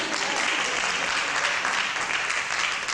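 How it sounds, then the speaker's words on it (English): A convention audience claps in steady, dense applause that holds at an even level throughout, with no voices rising above it. "Y'all can clap, that's fine."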